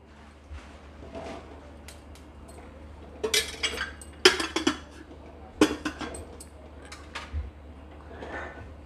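A metal pot set down on a gas stove, followed by a spoon adding oil: scattered clinks, knocks and scrapes of metal cookware, some sharp and close, over a low steady burner hum.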